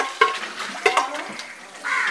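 Food is stirred in a cooking pot for a Malappuram-style ghee rice and chicken curry, with a few scraping knocks and soft clinks against the metal and a light bubbling hiss near the end.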